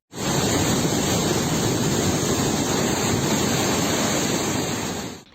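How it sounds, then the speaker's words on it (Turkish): Samandere Waterfall in flood after heavy rain and snowmelt, a steady loud roar of rushing water filling the whole clip with broadband noise and no voices. "Samandere Şelalesi'nde taşkın meydana gelirken"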